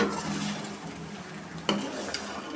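A spoon stirs pasta in a pan, a steady soft scraping and rustle with a sharper clink of utensil against metal near the end, close and fairly quiet.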